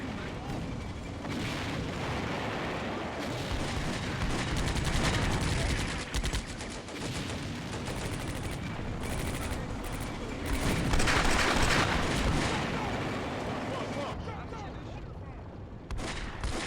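Big guns in the Combat Mission war game lay down a barrage, a dense, continuous roar of overlapping artillery blasts and rumbling, loud throughout with no pauses.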